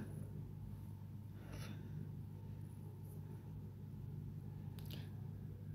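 Raw minced meat for keema kebabs is worked by hand with wheat flour and dry mango powder, giving soft, faint squishing and slapping over a steady low room hum.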